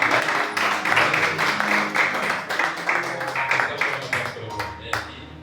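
A church congregation claps loudly for Jesus, a dense burst of many hands applauding that swells, holds, then fades out over several seconds, with a few voices mixed in.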